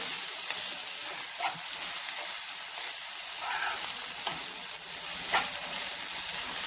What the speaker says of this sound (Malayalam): ഉള്ളിയൊക്കെ നല്ലതുപോലെ ഒന്ന് വാടിയിട്ടുണ്ട്